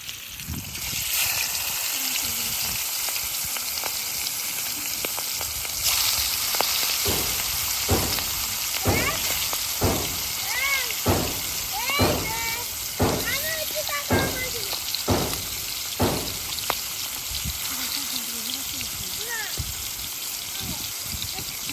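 Fish coated with turmeric, salt and spices frying in a wok: a loud, continuous close-up sizzle with rain-like hissing and scattered sharp pops and crackles that thicken midway.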